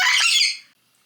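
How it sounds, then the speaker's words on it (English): Pet parrots at home let out a single loud, harsh squawk lasting about half a second before it cuts off into silence. "this is why I don't like recording when my parrots are awake, because my God, the noise"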